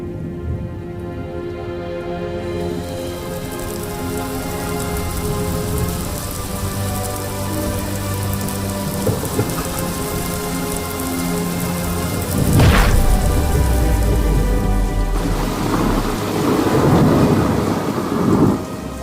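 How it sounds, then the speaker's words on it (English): Steady heavy rain pours throughout, with a loud crack of thunder partway through and low rumbling after. "the hideous thunderstorm and rain"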